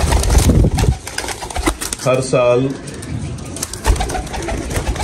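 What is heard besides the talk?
pigeons cooing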